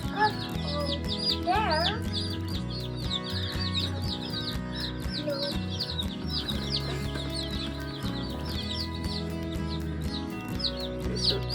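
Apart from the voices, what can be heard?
Cornish cross meat chicks clucking and chirping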